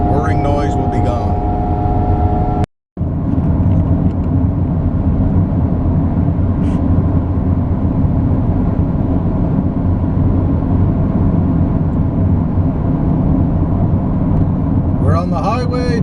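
A car's front end whirs from a worn wheel bearing while driving on the highway, a loud, unbroken drone of road and cabin noise with one very brief dropout near the start.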